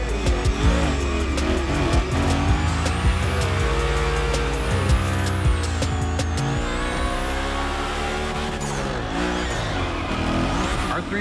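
A car drifts in the racing game The Crew Motorfest, its engine revving loudly and steadily as the tires squeal through a long continuous slide, with no talking.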